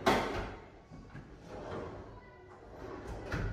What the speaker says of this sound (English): our drawers is soft closing